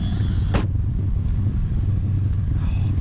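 A classic Super Blue car with a Hurst 4-speed pulls away, a steady low engine rumble close by with a brief sharp rasp early on, then a faint higher whine rising near the end.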